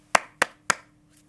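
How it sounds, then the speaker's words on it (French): Three sharp, evenly spaced hand claps ring out alone, a thin, half-hearted round of applause that quickly dies away. "me contenter de quelques applaudissements indifférents"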